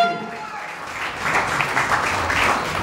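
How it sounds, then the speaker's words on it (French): A church congregation at a wedding applauds and cheers steadily throughout, a dense wash of clapping that swells slightly toward the end. "sous les acclamations de l'Église"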